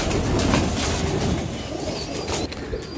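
Rare fancy pigeons, Taddy, Rampuri and Saharanpuri breeds, cooing softly in a loft, with a brief flutter of wings amid a steady close rustle and hum of surroundings.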